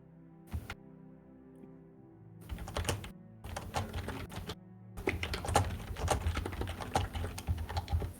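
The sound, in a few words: furious typing on a computer keyboard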